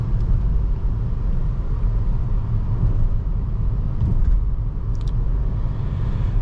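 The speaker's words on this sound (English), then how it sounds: "you also get a little bit of turbo noise too with that acceleration" A 2024 Nissan Altima SR VC-Turbo accelerates from the cabin, heard as a loud, steady engine and road rumble with a faint turbo whoosh, no talk.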